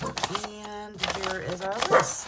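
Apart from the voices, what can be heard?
dog barking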